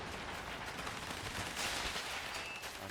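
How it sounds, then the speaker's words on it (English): Units open fire down a street in the WARNO military strategy game, with continuous dense gunfire and distant explosions forming a steady, noisy barrage throughout. "We opened up fire down the street."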